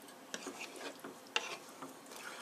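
Gnocchi tossed and stirred in sauce in a pan, giving soft intermittent scraping and light sizzling with a sharper clink of utensil against the pan partway through, close and fairly quiet.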